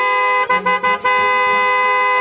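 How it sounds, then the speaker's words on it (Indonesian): A car horn in an animated scene in a narrow alley blares loud and close, with a few short, choppy honks followed by one long, sustained blast. "Pak, jangan klakson-klakson."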